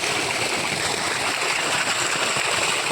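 Irrigation water pours steadily into a rice paddy field on a natural farm, a continuous, fairly loud rushing and gurgling flow close by.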